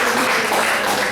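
A church congregation breaks into steady applause after the pastor calls for it, a dense, even wash of many hands clapping for about a second with no pause.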